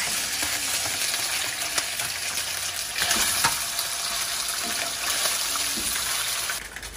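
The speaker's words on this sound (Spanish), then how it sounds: "Procedemos ahora sí a echar el jamoncito." Ham frying in a pan with plenty of hot oil, giving a steady, close sizzle with fine crackles and pops that continues throughout without any voices.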